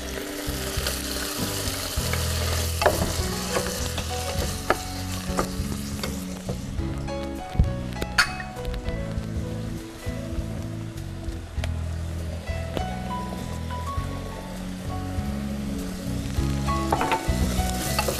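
Chopped onions frying in a pan for a chicken pasta with basil sauce, a loud continuous sizzle close by, broken by the scrape and clatter of stirring throughout.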